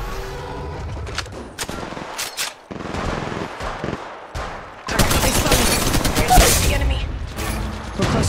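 Gunfire in the mobile battle-royale game Apex Legends Mobile: bursts of rapid shots and mechanical weapon clatter, sparse early on, then a loud, sustained stretch of continuous fire toward the end.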